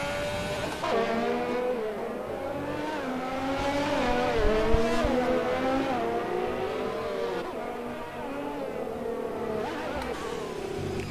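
Race cars lap a track in the F1 2020 video game at the Hungarian GP, high engines whining and shifting pitch as they accelerate and pass, loud and continuous with no talking.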